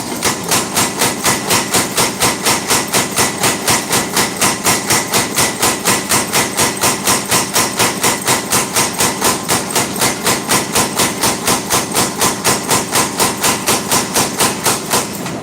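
Hot steel being forged into a blade, a fast, even stream of hammer blows, roughly three per second, close and loud, continuing without pause and with no talking.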